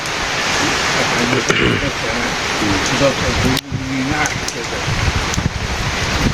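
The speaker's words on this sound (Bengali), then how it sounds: "বৃষ্টি বেশি না হালকা বৃষ্টি" Light rain falls steadily in a village, a broad, even hiss with a few faint rustles and thuds, heard close and continuous with no talking.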